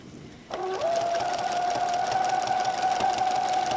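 A sewing machine starts up after a brief quiet moment and stitches potholder fabric in a close, steady, whirring drone that keeps running to the end.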